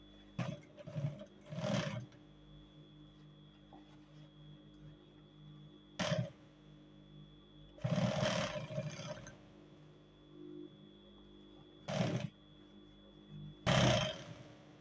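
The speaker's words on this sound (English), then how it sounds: "I will now sew." A sewing machine stitching cargo pants runs in several short bursts of a second or two, separated by quiet pauses, moderately loud and close, with no voices.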